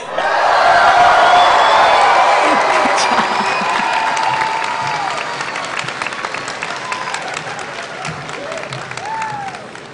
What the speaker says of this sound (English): would you give a loud salute and a big cheer